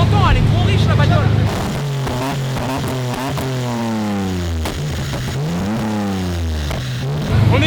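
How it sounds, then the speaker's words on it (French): A BMW E30 engine running too rich is revved hard several times. Each rev climbs and falls back, loud and close, with a rough exhaust note between the blips. "Tu l'entends, elle est trop riche la bagnole."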